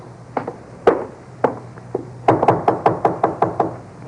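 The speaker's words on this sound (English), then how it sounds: "Let him knock again." Knocking on a door in a radio drama: a few single raps spaced apart, then a quick run of about eight firm knocks, loud and close with no one talking.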